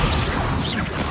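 A Confringo blasting spell impact in Hogwarts Legacy: a loud, crashing burst with a whooshing, smashing texture that stays steady and dense for about a second.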